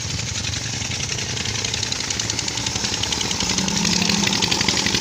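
A tube well pump engine runs nearby in a village field, a steady rapid chugging throb that holds at constant loudness throughout.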